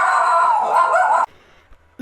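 Dogs howling in a loud, sustained wail with barking mixed in, close by, cutting off abruptly partway through, then brief quiet with a faint knock and a short return of sound at the end.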